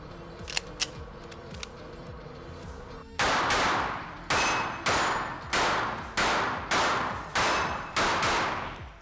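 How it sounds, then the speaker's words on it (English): Pistol shots fired at steel targets on an outdoor range using a red dot sight, first a few faint distant cracks, then seven loud evenly spaced shots in a steady rhythm, each ringing briefly. "Say you're shooting partials, no shoots, and steel targets like I have set up down here on the range."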